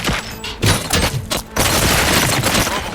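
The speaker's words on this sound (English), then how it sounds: "Gunshots? What's going on?" Gunfire in the Robocop: Rogue City video game: a dense, loud burst of overlapping shots and booms, with a brief lull before a sustained, continuous barrage fills the rest.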